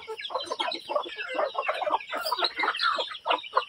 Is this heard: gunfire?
no